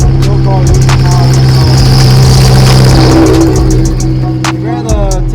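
A naturally aspirated Honda Civic drag car, losing power, roars and revs steadily up close at a drag strip in Ennis, Texas, its pitch rising and wavering, with people talking over the noise.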